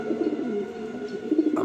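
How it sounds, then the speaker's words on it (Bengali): Pigeons kept in pairs coo softly and repeatedly at close range, a low throaty warble that continues steadily with no talking. "এখানে আরও এক পেয়ার কবুতর আছে"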